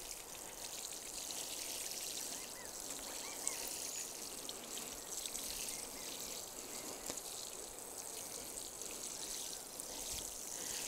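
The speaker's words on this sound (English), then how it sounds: "the next step is to water them in well" Water pours steadily from a watering can onto newly planted seedlings in a garden bed, a soft continuous trickling and splashing patter with no voices.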